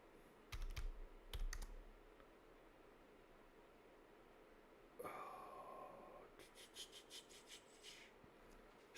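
Bursts of keystrokes on a computer keyboard during Linux Mint terminal work, quiet and fairly close, come in short clusters with pauses between them over a low background hiss.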